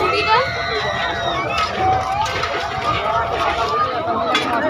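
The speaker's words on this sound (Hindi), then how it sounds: "भीड़" Dense crowd hubbub at a Makar festival fair in Themra, steady babble of many voices with occasional shouts and children's cries throughout, close and busy.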